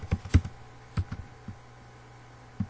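Several sparse keystrokes on a computer keyboard while an HTML file is being edited, soft close clicks in a short irregular burst, then a pause and a lone final tap.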